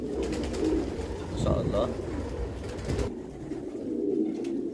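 Pigeons and squabs coo softly in a loft at a meat and Roman pigeon farm in Damietta, a low murmuring chorus that runs under a man's nearby speech throughout.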